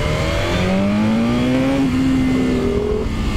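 BMW S1000RR superbike engine revving hard while riding, a loud continuous rising whine climbing steadily through the revs, close and dominant with wind roar underneath.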